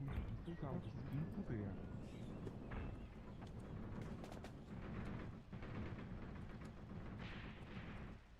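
Grenade blasts and rifle fire in the war game Graviteam Tactics, set in the South African Border War: scattered pops and thuds crackle steadily at a distance beneath nearly continuous speech.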